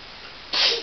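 A single short sneeze at home bursts out at the very end after a quiet, hissy lead-in, fairly soft and close.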